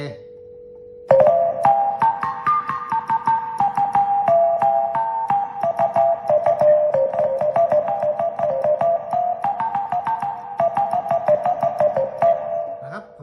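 A user-loaded sample on a Yamaha S-650 keyboard plays a sustained melodic line over a steady held tone, notes stepping up and down clearly for several seconds.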